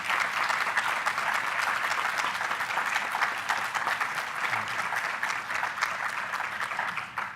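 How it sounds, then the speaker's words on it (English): An audience at a university faculty senate meeting claps steadily, a dense, even round of applause that holds from start to finish with no voices on top. "So give her a round of applause, would you,"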